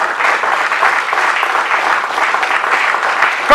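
A sermon audience applauds for Jesus, a dense, even roar of many hands clapping that holds steady for over three seconds before cutting off abruptly.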